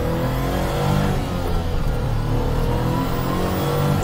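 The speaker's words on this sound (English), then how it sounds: "Now you can experience the little bit of turbo lag it has." A small turbocharged Mitsubishi Bravo microvan accelerates, its engine note climbing gradually with a slight lag, heard from inside as a continuous rising hum and whir.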